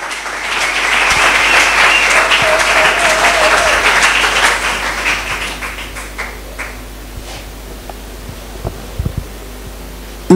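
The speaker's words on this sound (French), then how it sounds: "Est-ce qu'on peut acclamer pour la parole de Dieu?" A church congregation bursts into loud, sustained applause and cheering, strongest over the first five seconds before thinning out into scattered claps and murmurs.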